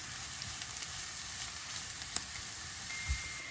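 A pan sizzles steadily with a soft, continuous hiss of carrots frying, plus an occasional faint tap of a utensil.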